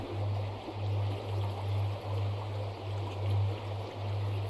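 Water flows in a soft, steady rush with a faint low rhythmic pulse beneath it. The sound is quiet and alone, with no voices.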